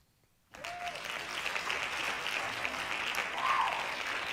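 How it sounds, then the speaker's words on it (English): After a brief near-silent start, a sustained round of hand claps begins suddenly and continues evenly at moderate loudness, swelling slightly toward the end with no talking. "Hand claps to that."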